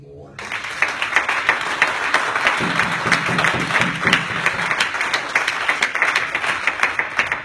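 Church congregation clapping hands in a steady, dense patter that builds after a brief start and continues for several seconds, fairly loud, with voices mixed underneath.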